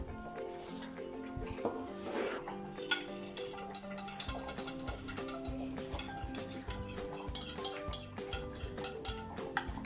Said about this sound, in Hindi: ये अंडा डालने के साथ हमने इसे फटाफट फेंटना शुरू कर देना है ताकि इसके छोटे छोटे पीसेस हो जाएं और ये स्क्रैम्बल्ड एग बन जाए